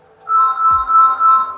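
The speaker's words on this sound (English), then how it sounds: "please excuse the phone in the background." A phone ringing in the background with a sustained electronic tone that pulses steadily for over a second, fairly clear and unaccompanied by talk.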